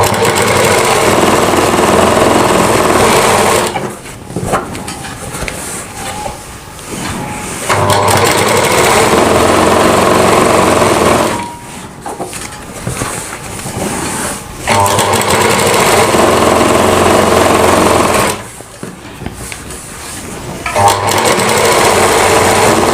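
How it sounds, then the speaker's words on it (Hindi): An electric sewing machine stitches the panels of a Rajputi suit together in three long, loud, steady bursts of running, each broken by a short pause of quieter fabric handling. "इसके बाद ऐसे सिलाई लगा देनी है हमें"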